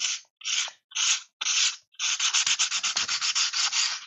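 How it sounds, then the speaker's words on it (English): Four separate sanding strokes on a guitar pickguard's binding, then a fast run of short, steady back-and-forth rubbing strokes. Close, rough and fairly loud, with no voices. "I think we're ready to just go all in on the sanding."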